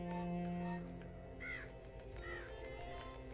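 Crows caw in the Child of Light video game, two drawn-out caws about a second apart, clear and mid-distance over a steady bed of soft game music.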